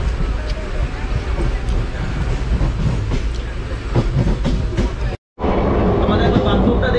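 The Kanchanjungha Express, train 13175 running from Sealdah to Silchar, rumbles loudly and steadily on the rails, with rhythmic clacking and a brief dropout near the end as it runs.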